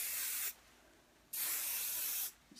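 Hairspray misted onto styled hair in two close, bright hissing bursts, each lasting about a second with a quiet pause between, and no talking.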